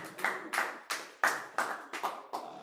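Congregation clapping to acclaim the Lord at a church gathering, a series of close, irregular claps about every third of a second, roomy and fairly loud with no voices.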